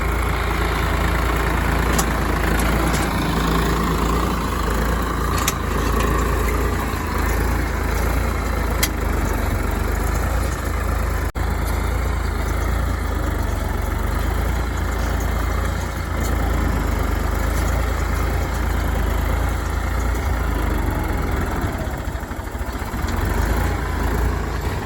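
A Swaraj 744 FE or 855 FE tractor engine runs steadily during a tillage test in the field, a loud continuous diesel rumble that holds for the full stretch.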